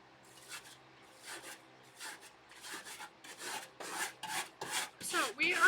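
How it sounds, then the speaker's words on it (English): A steel wire brush scrubs out a rusted interior, giving a run of close, scratchy strokes that start faint and grow louder and quicker toward the end, with no talking over them. "So we are scrubbing out. I'm going in with a steel brush."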